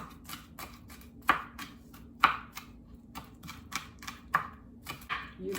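Knife chopping on a cutting board while mincing garlic for Indonesian chicken noodles, a steady run of close, sharp taps in an irregular rhythm, with no talk.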